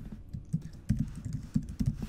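Typing a username on a computer keyboard, a quick close run of soft key clicks in an irregular rhythm with no voices.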